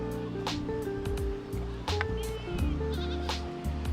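Several goats bleat repeatedly on the Kheerganga trek in the Himalayas, some calls near and loud, others overlapping, with a low rushing background like water or wind.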